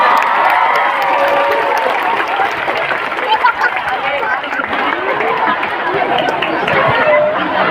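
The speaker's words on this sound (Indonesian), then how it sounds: "Tepuk tangan dulu dong" At a mosque lecture gathering with schoolchildren, a crowd claps amid lively chatter and shouting, with a busy mix of talk running over the applause the whole time.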